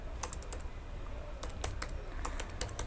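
Typing HTML code on a computer keyboard, quick light clusters of keystrokes close to the microphone over a steady low room hum, with short pauses between bursts.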